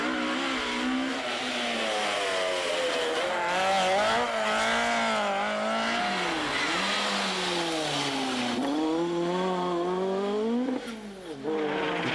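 A Ford Puma rally car tears along a gravel stage at the Rally of Kerry, its engine wailing and shifting through rising and falling revs as it accelerates, loud and close, with a brief dip near the end.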